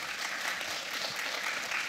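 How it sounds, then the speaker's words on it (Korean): An audience at the close of a Korean academic conference session on public institution job and personnel management gives steady applause, a dense continuous patter of many hands heard from a distance at moderate volume. "큰 박수 부탁드리겠습니다"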